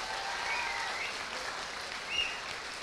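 Soft, distant applause from an audience at an inclusion day talk, a light continuous patter of clapping at fairly low level with a slight swell near the end.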